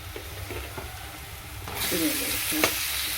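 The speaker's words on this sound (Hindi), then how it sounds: "पहले हल्दी को 1-2 सेकेंड ऐसे भून लो, फिर उसके बाद हम आलू इसके अंदर ऐड कर देंगे।" Turmeric and potatoes fry in a hot pan, a steady sizzle that swells louder partway through as the potatoes go in, with a few scraping stirs of a spoon; no talk.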